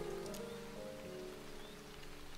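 Rain falling in the video game Starbound, a steady, soft hiss of drops on a surface with faint background music tones, no talking.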